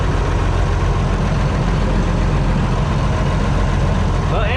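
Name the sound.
engine idling after thermostat replacement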